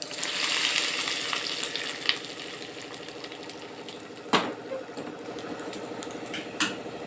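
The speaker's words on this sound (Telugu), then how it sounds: "పోపు కాలిపోయిందండి, దీన్ని పచ్చళ్ళు కలుపుకుందాము." A tempering of chana dal and curry leaves fries in hot oil with a continuous crackling sizzle, broken by a few sharp spoon knocks against the pan, close and steady without speech.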